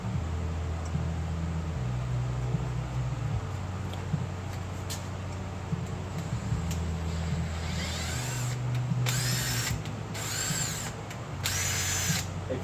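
Power tool whirring as a thread die cleans sealant off oil pan bolt threads, running steadily with pitch shifts and several short bursts of louder high-pitched grinding toward the end, close and alone.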